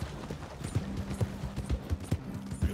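Horse hooves clip-clop in the video game Red Dead Redemption 2, a steady, fairly close rhythm of dull thuds with a faint mechanical hum underneath and no talk.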